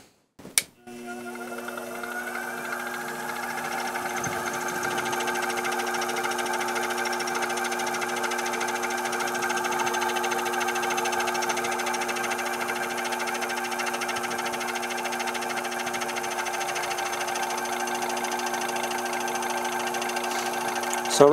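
Vertical milling machine surfacing a metal workpiece, a steady loud whirring hum with sustained tonal whine that runs continuously for the whole stretch after a brief click at the start.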